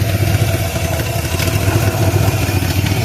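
A motorcycle engine idles steadily after a carburetor adjustment, a loud, close, even putter that holds constant throughout with no talking.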